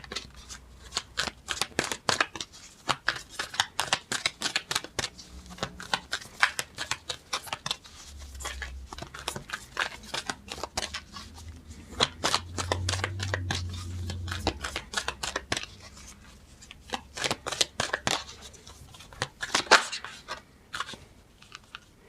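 A tarot card deck being shuffled close up in a long run of rapid, crisp riffling flutters and taps, with brief pauses between bursts.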